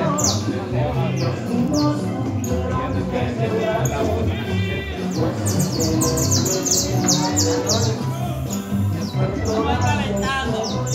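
A Creole canary singing in a small cage, loud continuous trilling and rapid chirps up close, with people talking and background noise underneath.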